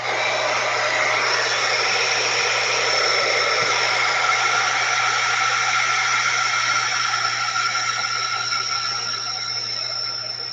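A hair dryer blows steadily on wet paint, a loud, even whirring hiss that holds unbroken for the whole stretch with no talking.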